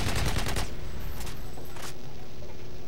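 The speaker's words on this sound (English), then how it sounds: "the AK47 is a pretty awesome gun, as you see me owning with it" AK47 fire in a video game firefight on a scrapyard map: a rapid, loud automatic burst up front, then a few separate sharp shots, with no talking.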